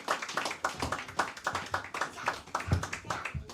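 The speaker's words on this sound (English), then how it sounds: "get his brother a hand clap real quick" An audience claps for a brother at a live Hanukkah feast gathering in Durham, North Carolina, a brisk run of steady hand claps from a small group, near and moderately loud.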